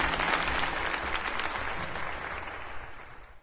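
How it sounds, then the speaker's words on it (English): Sustained round of applause from a crowd in the Pokemon Legends: Z-A video game, a dense clapping wash that stays loud throughout and tapers slightly toward the end. "Heartfelt round of applause for Mochi."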